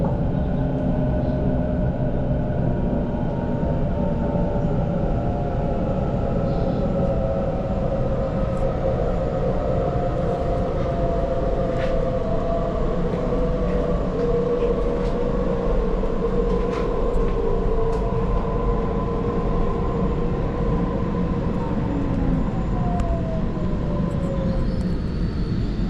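A Sydney train runs on its rails with a loud, steady rumble that fills the whole stretch, and faint rising and falling motor whines sit above it.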